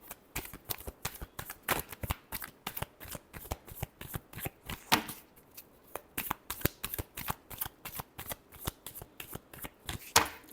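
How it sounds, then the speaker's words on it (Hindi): Tarot cards being riffled and shuffled by hand during a reading, a fast run of crisp papery flicks and snaps close by, with a few louder bursts, alone without talk. "Last shuffle."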